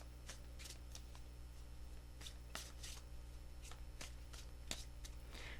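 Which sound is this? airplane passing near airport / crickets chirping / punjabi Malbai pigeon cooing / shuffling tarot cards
shuffling tarot cards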